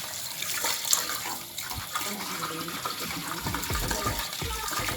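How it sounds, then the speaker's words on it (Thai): Water gushes steadily while rinsing food residue and grease out of a grease trap, a continuous splashing flow close by, with someone talking over it. "จะเป็นการล้างกากของความสะอาดออกนะครับ"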